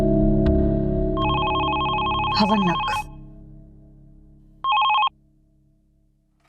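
A telephone rings indoors in a drama scene, two bursts of electronic trilling tones separated by a pause, fairly loud over low background sound.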